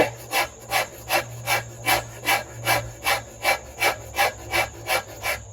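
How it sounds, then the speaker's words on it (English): A farrier's or Shinto rasp shaving the last wood from a self bow stave, about a dozen evenly spaced rasping strokes in a steady rhythm, loud and close with no talking. "for this job, I recommend either a farrier's rasp or one of these Shinto rasps"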